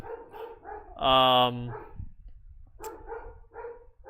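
A dog barks several times in short bursts from close by, with a loud tonal voice interrupting midway before a few more barks.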